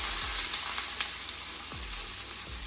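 Plant-based beef tips fry in a pan with a steady, loud sizzle. A few soft scrapes of stirring come through, with no talking.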